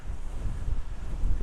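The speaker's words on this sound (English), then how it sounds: "Oh my God, it's windy" Strong wind buffets the microphone in low, rumbling gusts, steady and close, with no voices.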